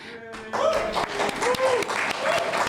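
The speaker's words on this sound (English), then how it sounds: "Definitely worthy of applause" Audience applause at a UC carbon and climate neutrality summit, a steady wash of clapping from a crowd that swells after a brief start, with a few whoops or cheers rising above it.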